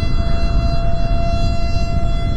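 A steady, droning siren from the video game Island Mistery wails loud and unbroken over a low, rumbling background, with no talking.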